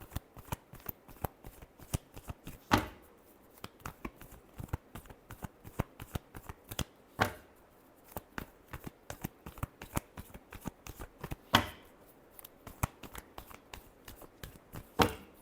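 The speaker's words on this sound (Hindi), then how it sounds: "Last shuffle." Tarot cards are shuffled over and over in quick, crisp riffling bursts close to the microphone. A few louder riffles stand out from the steady flicking, and there is no talking.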